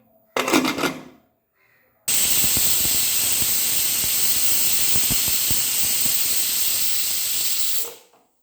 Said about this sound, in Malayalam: ഹൈ ഫ്ലെയിമിൽ ഒരു വിസിലടിച്ചു